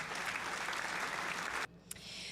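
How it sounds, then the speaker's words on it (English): A crowd applauds in a steady, dense patter of clapping that stops abruptly near the end. "Round of applause for you."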